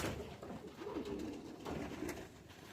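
Homing pigeons coo steadily at a pigeon show loft, soft repeated coos close by with a few wing flutters mixed in, no talk.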